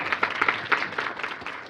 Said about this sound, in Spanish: les damos un fuerte aplauso a nuestros ponentes